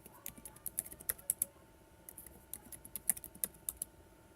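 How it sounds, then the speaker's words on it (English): A password is typed on a computer keyboard as a run of crisp, irregular clicks, close and fairly quiet, with short pauses between groups of keystrokes and no voice. "here we just have to type a password for admin"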